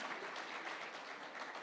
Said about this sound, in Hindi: पहले तो जोरदार तालियां इस मुद्दे पर